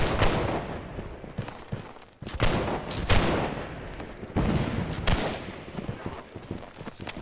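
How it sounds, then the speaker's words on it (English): Musket gunfire in Holdfast: Nations At War during a line battle, sharp volleys cracking out in separate bursts, loud and close, with hoofbeat-like clatter and voices in the background. "Nice shooting, Fro."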